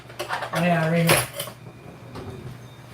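Cutlery and dishes clatter and clink sharply in a brief burst, a ringing metallic jangle near and loud, with a voice speaking briefly over it.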